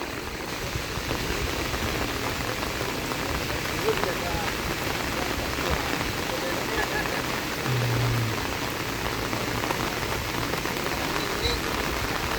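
Heavy rain pours steadily in a dense, even hiss close by for the whole stretch, with no break in the downpour.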